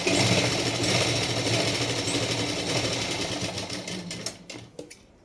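A sewing machine stitches a double katori blouse with a loud, fast, steady whirring chatter that runs close up for several seconds, then slows and stops with a few final clicks.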